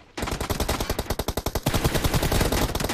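Automatic gunfire in a video game team deathmatch starts sharply and keeps going as fast, evenly spaced shots, loud and near, and later becomes a denser overlapping burst.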